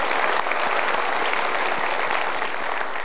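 Dense, steady applause from a seminar audience, clapping evenly throughout without voices standing out.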